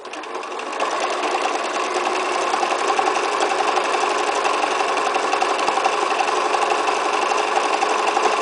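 A sewing machine runs continuously doing free-motion appliqué, its needle stitching in a rapid, even mechanical whir up close.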